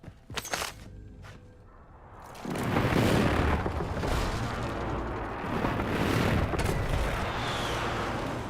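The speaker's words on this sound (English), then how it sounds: "Enemy precision airstrike." Enemy precision airstrike explosions rumble and boom in the Warzone video game: a few sharp hits early, then a sustained, heavy barrage of blasts that rolls on loudly and continuously with a dense, thundering low end.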